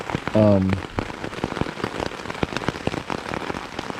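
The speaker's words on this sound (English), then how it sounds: "As you can hear, it's now raining quite a bit." Steady rain patters densely on a nearby surface at a stealth campsite, a constant crackling shower of drops, with a brief tonal sound near the start.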